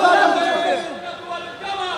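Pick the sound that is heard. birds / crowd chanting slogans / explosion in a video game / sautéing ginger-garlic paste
crowd chanting slogans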